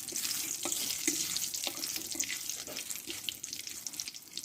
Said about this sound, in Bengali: এই লঙ্কাটা একটু লালচে করে আমি ভেজে নেব